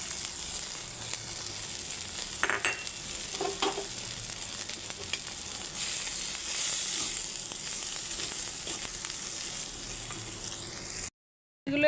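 Ginger paste with salt, turmeric, chilli, cumin and coriander powders sizzles steadily in a hot pan, with a few scraping stirs and short spatters, alone with no voices before a brief cut near the end.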